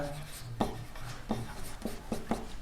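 Pen or chalk writing out a class 10 statistics maths solution, a few soft rubbing strokes in a short uneven rhythm, heard close beneath a room hum with faint voice in the background.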